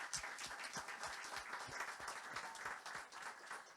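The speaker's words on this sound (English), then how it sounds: "I would invite you to applaud our presenters" An audience at an academic session on semantics and ontologies applauds the presenters, with steady, dense clapping from many people that holds throughout without a break.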